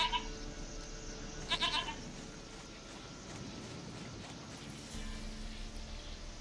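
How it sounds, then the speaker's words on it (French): A goat bleats briefly a couple of times inside The Witcher 3, the calls light against a steady game ambience with rustling, no talk. "Une chèvre à moi, gentille, douce biquette."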